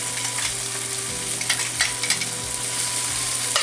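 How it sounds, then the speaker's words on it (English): Peppers and garlic sauté in a hot pan with shrimp and salmon, giving a steady, close sizzle with a few light stirring scrapes and clinks, and no talking. "we're going to add the peppers and the garlic"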